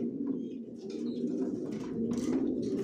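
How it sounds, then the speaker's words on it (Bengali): Long-distance racing pigeons coo steadily in a loft, a continuous low throaty murmur running throughout with faint intermittent chirps above it and no talking. "আমার লফটে সব লংয়ের কবুতর পালি।"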